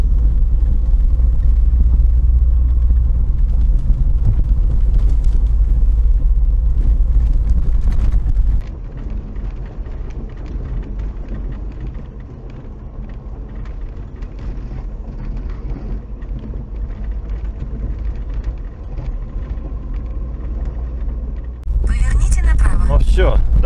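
Interior rumble of a vehicle driving over rough ground toward a Mitsubishi Delica stuck in mud, a loud low steady engine and road drone with a dip midway, heard under talking.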